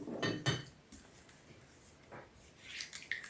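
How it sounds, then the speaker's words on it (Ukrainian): A utensil clinks and scrapes against a bowl while onion fritter batter is stirred, a few quick taps followed by softer mixing sounds. "Перемішуємо."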